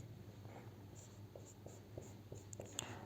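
Chalk or marker writing on a board during a quantum mechanics lecture, a series of short scratchy strokes and taps in a steady rhythm, fairly faint over a quiet room hum.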